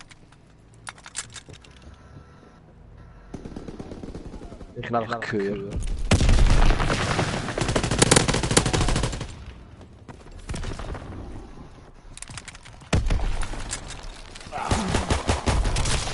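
Heavy automatic gunfire and explosions roar through a Call of Duty WWII multiplayer match, loud sustained fusillades alternating with quieter stretches, mixed with rapid keyboard clicks and someone speaking German.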